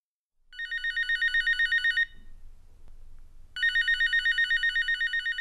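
A telephone bell rings in two long trilling bursts, each about one and a half seconds, separated by a short quiet gap, loud and clear with nothing else heard.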